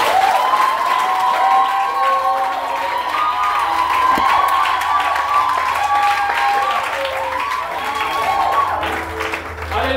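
A church congregation applauds and cheers for Jesus, a loud sustained wash of clapping with shouts and whoops from many voices filling the room for ten seconds.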